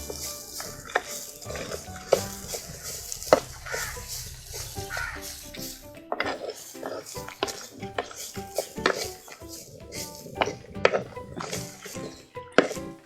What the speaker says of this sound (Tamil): முந்திரி பருப்பு, பொட்டுக்கடலை, இப்போ இதை நல்லா வறுத்துக்கலாம்.